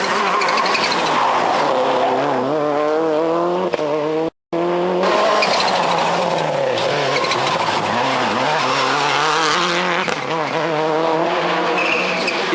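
A Subaru Impreza WRC rally car from the 1999 Monte Carlo Rally drives hard on asphalt. Its engine revs rise and fall continuously with shifts and brief tire squeal, loud and near, with one short dropout.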